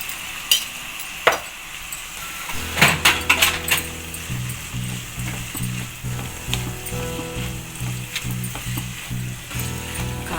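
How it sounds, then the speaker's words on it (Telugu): Ridge gourd sizzling in a pan as chili powder is stirred in, with a spoon scraping and clinking in a steady rhythm over the frying hiss, close and fairly loud. "కారం వేసుకుని చక్కగా బాగా కలిపేసుకున్నాము బీరకాయ పట్టేలాగా."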